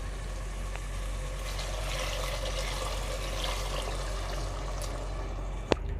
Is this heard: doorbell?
no